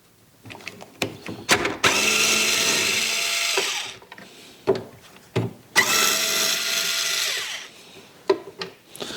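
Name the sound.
unscrewing bolts with a Phillips head screwdriver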